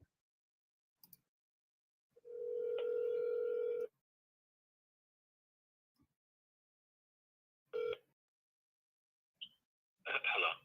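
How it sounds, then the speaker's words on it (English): A phone line tone while calling an agent: a steady tone of almost two seconds, then quiet, a short tone burst with clicks, and a few brief beeps near the end, all thin and faint. "let me see if I can get this agent on the phone with you guys right now"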